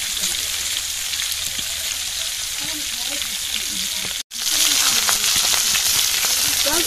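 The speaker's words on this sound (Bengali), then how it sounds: "এখন ওই যে পেঁয়াজ দিচ্ছে রান্না করার জন্য তেলের মধ্যে" Onions fry in hot oil for a tilapia curry, a steady, close crackling sizzle that briefly drops out midway before continuing.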